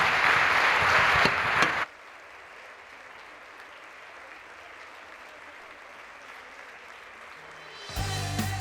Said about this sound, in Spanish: despedirles con un fuerte aplauso